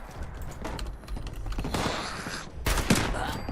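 Gunfire in the video game Fallout 76: scattered rapid shots crackle in short bursts, ending with a louder volley, all fairly quiet overall.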